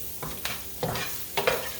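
Flour being stirred into browned breakfast sausage in a pan for gravy: a few close, scraping stirring strokes over a soft sizzle, with short bursts of motion and brief pauses between them.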